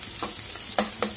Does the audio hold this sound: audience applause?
no